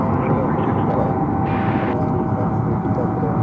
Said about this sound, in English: This is a plane that's taking off now from the east side.